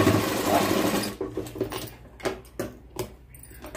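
A sewing machine stitches the side seams of a blouse with a fast, continuous whir up close. The run gives way to scattered clicks and short bursts as the fabric is handled.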